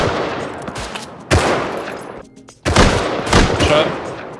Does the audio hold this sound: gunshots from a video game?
yes